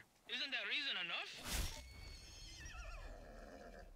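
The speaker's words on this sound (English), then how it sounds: "I didn't mean to hit the horse." A horse in Far Cry 6 lets out a loud, wavering whinny, followed by a sharp impact and a softer snort and shuffle as it settles.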